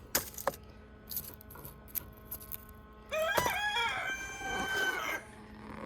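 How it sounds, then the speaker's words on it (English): A rooster crows loudly nearby on a Minnesota garden plot, one long drawn-out call, after a few scattered clicks and small thumps. "Helpful rooster."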